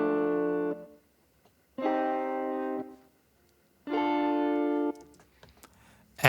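Guitar part played for a spacious, lush mix: three sustained strummed chords ringing cleanly, each held about a second before stopping, with quiet gaps between and a faint clicky tail at the end.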